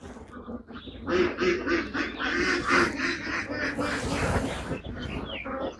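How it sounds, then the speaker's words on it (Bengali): A large flock of ducks on a big pond farm with open netted fields quacks in a dense, continuous chorus of overlapping calls, close and loud, with no talk. "অসংখ্য অসংখ্য হাঁস আর হাঁস"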